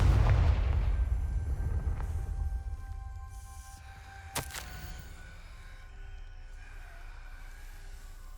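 Confringo blasting spell going off in the video game Hogwarts Legacy: a single sharp blast with a brief crackling tail at mid-clip, standing out over a low rumbling ambient bed that fades from a loud start.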